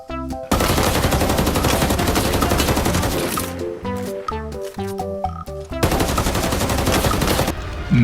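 Loud, sustained automatic gunfire in a video game, with dense overlapping shots, a brief stretch of scattered single shots in the middle, then heavy bursts again.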